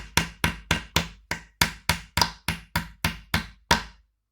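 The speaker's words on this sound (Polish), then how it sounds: "Ja jeszcze je potem dobijam, żeby nic nie wystawało i nie przeszkadzało przy skrobaniu ramek." Twelve sharp, evenly spaced hammer blows ring out up close as nails are driven into wooden beehive frames, each strike decaying quickly before the next, with no talking.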